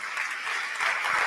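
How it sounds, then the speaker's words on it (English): Audience applause for the panelists at the close of a session at a rural finance summit, a steady dense wash of clapping from a room of people throughout. "I wish to thank our panelists with a round of applause."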